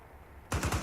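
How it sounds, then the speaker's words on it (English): Gunfire in the Task Force 121 video game, a quiet lull broken by a loud, close burst of three or four rapid automatic shots. "Taking fire."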